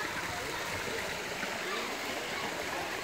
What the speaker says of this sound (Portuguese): A água vem lá de cima do morro